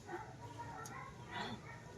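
Dogs bark and yip in short bursts against a busy background, with a brief whimpering sound partway through.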